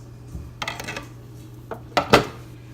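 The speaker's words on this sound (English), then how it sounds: "So I'm going to take the lid off." Lid lifted off a slow cooker of beef stew after hours of cooking: a few clinks and knocks of the lid against the pot, with two sharper clatters near the end.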